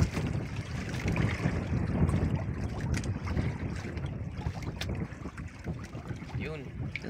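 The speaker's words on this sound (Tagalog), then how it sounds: "Mahangin, mahangin, kaya maglipad yung, pan, yung sumbrero" Strong wind buffets a small fishing boat out at sea, a steady roaring rush of wind noise with water sloshing close by, continuous and loud throughout.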